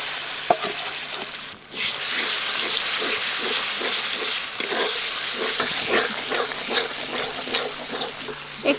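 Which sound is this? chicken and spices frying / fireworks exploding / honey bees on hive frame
chicken and spices frying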